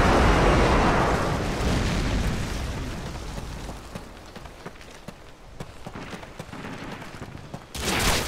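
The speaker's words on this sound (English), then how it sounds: "Airstrike inbound." Heavy airstrike explosions in Call of Duty Modern Warfare: a huge roaring blast up front that rumbles and decays, followed by scattered smaller pops and crackling bursts, then a fresh loud burst at the end.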